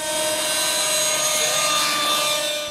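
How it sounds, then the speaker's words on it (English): A remote control model helicopter at an air show hovers and flies acrobatically. Its rotor and motor give a steady, loud whine with a slowly shifting pitch and no voices. "this is a great demonstration of how one of these model helicopters can hover and fly pretty acrobatically"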